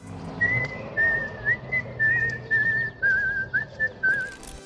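Someone whistles a melody, as used in Kill Bill: a bright, steady sequence of gliding notes over a faint, low background murmur.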